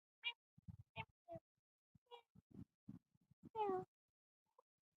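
A cat meows a few times amid low, muffled sounds, one longer, louder meow standing out near the end, close by.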